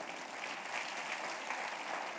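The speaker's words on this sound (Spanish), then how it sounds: "Denle un aplauso al Rey bendito." A crowd applauds steadily, a dense wash of clapping at moderate volume with no voices above it.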